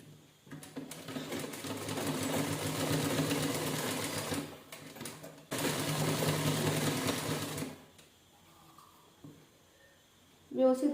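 A sewing machine stitches lace onto the back neck of a blouse, running in two long steady bursts of rapid, even whirring with a brief pause between them. It then stops, leaving quiet handling noise and a short spoken phrase at the end.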